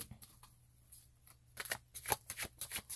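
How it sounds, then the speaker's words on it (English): A deck of oracle cards being shuffled by hand, sparse soft riffles at first, then a quick run of crisp, close shuffling bursts with no talking. "Really having an issue shuffling today."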